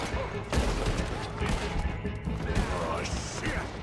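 Gatling gun fire in Red Dead Redemption 2, a dense clattering barrage of rapid shots with a heavy crash near the start, running under a player's talk throughout.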